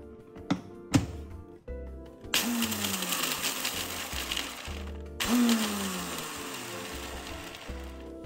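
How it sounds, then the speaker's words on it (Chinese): Blender grinding 30 grams of roasted peanuts, opening with a few brief taps before the motor starts in two loud, steady whirring bursts separated by a short pause. "搅拌器倒入烤箱花生30克"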